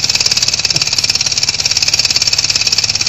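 A small homemade engine runs steadily in a workshop, giving a loud, continuous rapid chatter with a fast, even pulsing rhythm and no pauses throughout.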